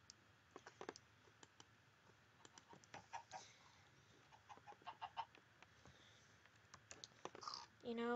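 Soft Minecraft chicken clucks come in scattered short bursts, faint and mixed with keyboard typing clicks and quiet background game sounds, with a bit of talk near the end.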